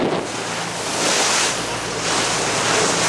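Ocean waves and swells roll at sea off Morro Bay on a deep-sea fishing boat, a loud, continuous wash of surf swelling and receding in broad surges, mixed with wind buffeting the microphone.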